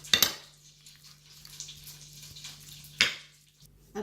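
Chicken coated with spices, salt and black pepper being mixed in a bowl: a couple of sharp utensil clinks against the bowl, separated by soft, quiet stirring and a faint hum.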